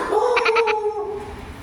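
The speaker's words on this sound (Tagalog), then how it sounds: "Bait-bait na pusa to ah." A cat meows in a short, close, fairly clear call of about a second, with a strained, throaty edge and a little faint background noise.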